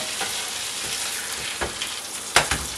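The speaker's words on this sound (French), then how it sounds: "on va juste mettre dans une poêle qui est déjà assez chaude. Mettre une bonne noix de beurre" Pain perdu bread slices fry in melted butter in a hot pan, giving a close, steady sizzle with a few sharp pops and clatters toward the end.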